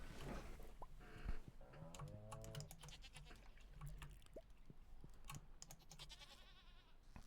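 A goat bleats in the Stardew Valley farming game, a short wavering call near the start, set against faint background game music and soft clicking.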